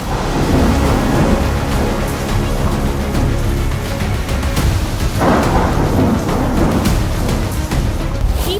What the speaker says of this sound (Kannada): ಕಲಬುರಗಿ ಹಾಗೂ ಬೀದರ್ನಲ್ಲೂ ಮಳೆ ಸುನಾಮಿಯೇ ಎದ್ದಿದೆ